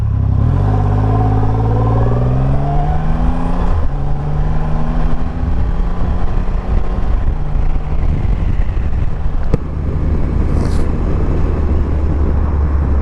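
A 2020 Triumph Rocket 3 GT motorcycle engine pulls through rising and shifting revs while being ridden, loud and close, with heavy wind buffeting throughout and no speech.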